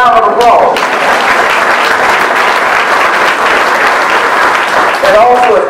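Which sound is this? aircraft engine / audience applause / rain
audience applause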